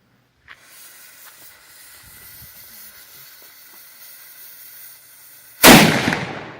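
A signal cannon is test-fired, giving a single sudden, loud boom followed by a fading roar, after a quiet stretch with a faint distant pop near the start.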